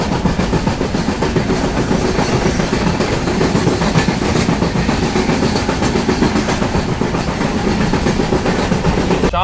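Konkan Kanya Express train running on rails from Goa to Mumbai, crossing the Zuari River bridge: a loud, steady rolling rumble with rhythmic clickety-clack of wagons over the track, continuous throughout with no talk.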